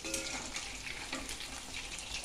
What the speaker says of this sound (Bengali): চিলি চিকেনের পকোড়াগুলো ফ্রাই হচ্ছে